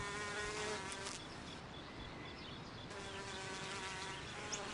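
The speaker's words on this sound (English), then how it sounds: "This honeybee is collecting nectar from a purple Kufia flower." Honeybee collecting nectar from a purple Cuphea flower, a continuous close wing buzz that stays steady throughout, shifting slightly in pitch as the bee moves.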